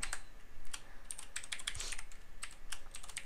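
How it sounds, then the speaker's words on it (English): Rapid, uneven clicking of keys on a computer keyboard as someone types into a Microsoft Word document, close and steady, with no voice. "I guess I'll just type this in real quick."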